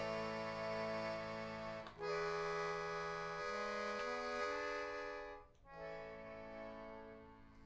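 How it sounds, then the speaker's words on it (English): A bandoneon plays sustained reedy chords with a few bass note changes, breathing briefly between phrases, heard alone without talk. "this is bandoneon"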